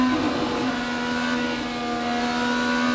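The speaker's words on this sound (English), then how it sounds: "But listen to Dixon work the throttle" IndyCar race car at the Indianapolis 500, engine droning loud and steady with a constant high tone and slight throttle variation, crowd and track noise underneath, no talking.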